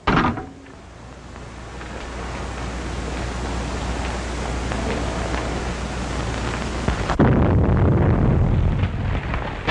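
Explosion in an old black-and-white mystery film: a sharp blast opens into a long, roaring rumble that holds steady, then a second heavy burst near the end, with no voices.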